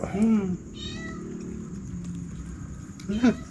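A black cat meows at night in a cemetery, one drawn-out cry at the start and another near the end, close and clear, with people talking quietly in between.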